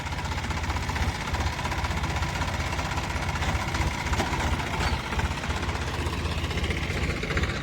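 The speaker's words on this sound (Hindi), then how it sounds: "क्या शानदार आवाज़ है मैसी 245 की" A Massey 245 tractor's diesel engine runs steadily nearby, a loud continuous low chugging rumble with a rapid knocking pulse and no voices.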